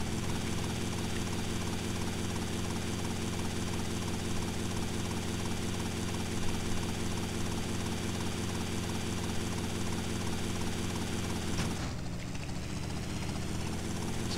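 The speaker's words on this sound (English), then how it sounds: "Then you run to the helicopter immediately and fly away." A helicopter's rotor and engine drone steadily and loudly for a long stretch in the video game GTA: Vice City, then the sound abruptly shifts and thins near the end.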